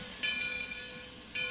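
A train passes with a brief, faint, steady rumble and whistling tones in a short sound effect from a language course.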